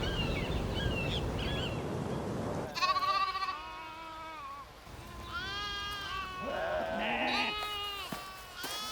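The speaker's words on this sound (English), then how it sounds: "We brought a herd of goats and they just started multiplying around" A herd of goats bleats near a factory site, several overlapping wavering calls coming close together after a few seconds of rough low noise.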